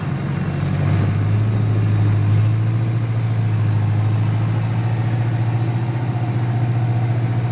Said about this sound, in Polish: ciągnik już mniej więcej nie dał rady uciągnąć